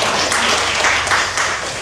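An audience at a talk claps together in a short, loud burst of applause that stays close and continuous before easing off slightly.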